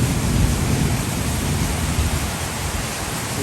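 Steady, dense rainfall during a rainstorm hisses without a break, broadband and fairly loud, with no distinct drops, talk or thunder standing out from the continuous wash.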